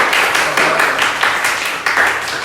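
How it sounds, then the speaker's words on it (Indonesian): Classroom students clap for a presenting group, a loud, steady round of hand claps with rhythmic accents throughout. "Untuk anak-anak yang lain silakan kasih tepuk tangan."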